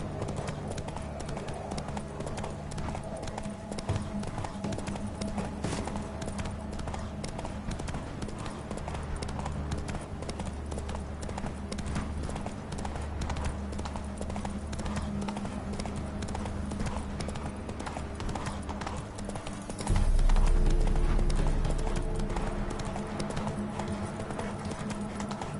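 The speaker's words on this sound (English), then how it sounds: "Whoa there, Roach" Horse hooves gallop in steady clip-clop rhythm in The Witcher 3 video game, close and continuous over a low ambient music bed, with a brief louder swell near the end.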